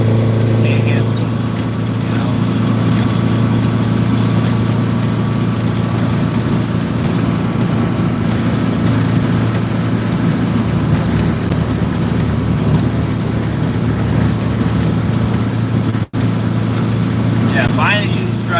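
A heavy truck engine drones steadily at low pitch throughout a drive, close and continuous, with road and cab noise over it.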